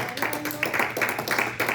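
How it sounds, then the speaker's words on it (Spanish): A church congregation claps in a steady, rhythmic burst at a Love and Friendship celebration service, moderately loud, with some voices mixed in. "Dale un fuerte aplauso a Dios"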